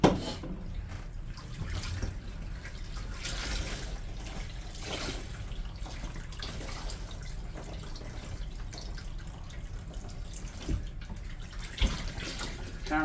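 Water pours steadily from a tap into a bathtub, a constant close rushing hiss with splashing and occasional drips throughout.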